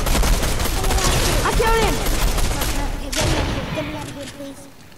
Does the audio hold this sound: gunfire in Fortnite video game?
yes